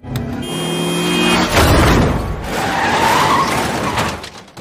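A motorcycle ridden at high speed skids and crashes: a harsh scraping slide rises into a loud, grinding impact with scattered debris, then trails off, with no voices present.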